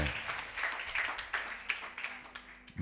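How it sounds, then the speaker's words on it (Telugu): A church congregation at a Sunday service in Visakhapatnam claps together, a soft, fairly distant patter of many hands with a few louder claps. "Let's give a big clap unto God."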